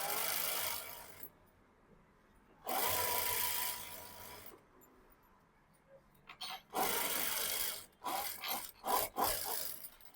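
A sewing machine stitches a puff sleeve in several bursts of rapid, buzzing mechanical whirring, each run lasting a second or two and separated by quiet gaps, ending in shorter stop-start runs; close and loud, with no talking.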